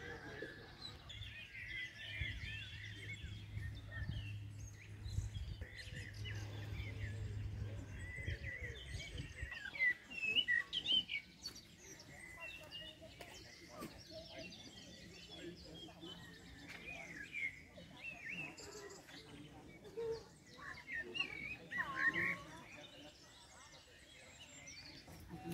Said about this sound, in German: das sind alle Vögel